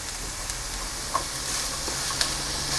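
Carrots and onion sauteing in a little oil make a soft, steady sizzle, broken by a few faint stirring clicks, with no talking.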